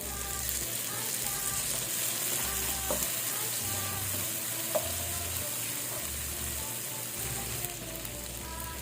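Ginger and chili stir-fry in hot oil in a pan, a loud, steady sizzle and crackle with occasional scrapes of a spatula, close and continuous.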